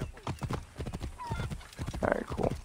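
A horse gallops in Assassin's Creed Origins, with quick rhythmic hoofbeats throughout and a short whinny near the end, close and loud under a voice.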